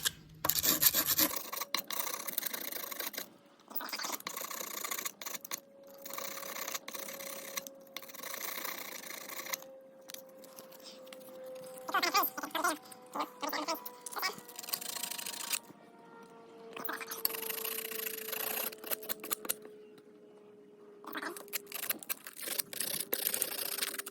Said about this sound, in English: I'm just gonna take something flat, like this tire wrench, and some sandpaper on it.